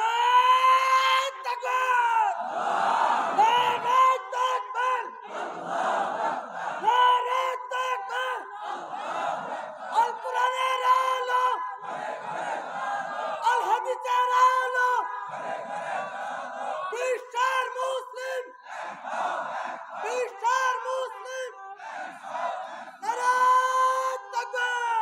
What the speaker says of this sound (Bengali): আপনাদের থেকে একজন তাকবীর দিবেন, একেবারে প্রাণবন্ত হবে যেই তাকবীর